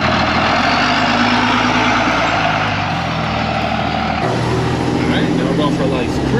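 A 1969 Ford F800 crew cab truck runs with a steady, heavy low engine rumble that holds throughout, loud and close, shifting slightly in tone partway through, with voices over it.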